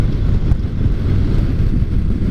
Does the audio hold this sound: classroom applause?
no